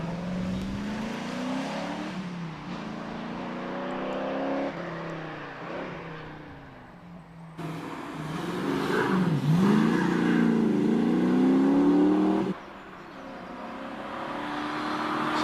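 Race car setting off at Prescott hill climb, engine revving hard through rising gear changes, surging loud then dropping and climbing again as it pulls away, no talk.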